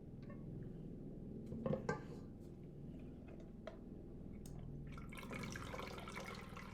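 Whey drips and trickles from ricotta curds into cheesecloth, a faint, quiet liquid patter with a couple of louder splashes early on and a steady soft flow afterward.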